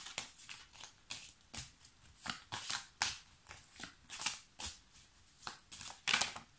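Playing cards riffled and drawn one at a time, a quick series of crisp flicking and sliding snaps, close and fairly quiet, repeating irregularly with no talk.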